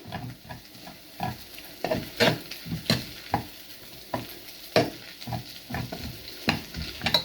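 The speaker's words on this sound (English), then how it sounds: "Now, I've got to keep on mixing. Otherwise, it will stick to the bottom" Cheese and egg noodles stirred in a pan, with repeated scraping and clacking strokes in an uneven rhythm over a low frying sizzle, close and fairly loud, with no talk.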